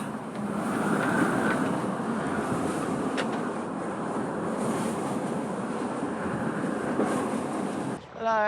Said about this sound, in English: There was so much wind. We are actually inside of the hurricane